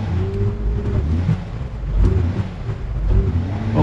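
A car with clutch-based four-wheel drive reversing out of snow at a campsite, its engine rumbling low and steady with a couple of rising revs as it strains for grip.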